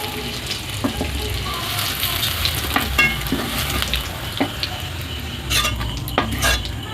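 Mushrooms frying in a pan, a soft continuous sizzle broken by scattered scrapes and taps of a spoon stirring them, close and moderately loud.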